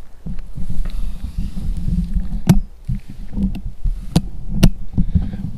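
A few sharp, isolated clicks from tripod legs descending, spaced irregularly over low rumbling handling noise, close to the microphone.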